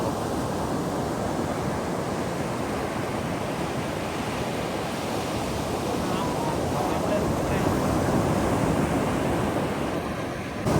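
Steady roar of surf with waves breaking continuously, a loud, broad wash of water and wind noise with no clear pauses.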